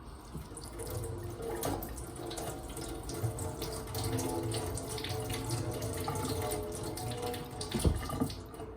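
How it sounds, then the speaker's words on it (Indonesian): Water from a tap runs steadily into a sink while sliced ginger is rinsed under it, a continuous close splashing flow with faint shifting sounds of handling and a brief knock near the end. "Dibilas ya jahenya."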